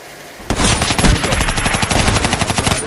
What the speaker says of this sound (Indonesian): bunyi letusan senjata dan peluru yang berterbangan menuju ke arah badan Tarzan.